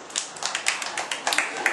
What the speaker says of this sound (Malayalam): Clap your hands.